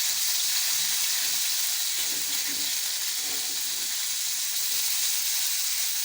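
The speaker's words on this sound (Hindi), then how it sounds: "मैंने ऑयल थोड़ा सा डाल दिया है पैन में और हम इसमें चिकन डाल देते हैं।" Chicken pieces fry in a little oil in a pan, giving a steady, fairly loud sizzle and hiss that runs unbroken throughout with no talking.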